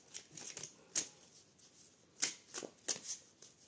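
Tarot cards shuffled by hand, a quiet series of brief papery riffles and flicks in uneven bursts, close and alone with no talk.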